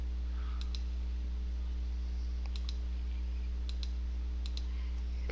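Sparse mouse clicks, single and in quick pairs, tapping out points of a polygon lasso selection around a logo image in the Pixlr editor, faint and close over a steady electrical hum.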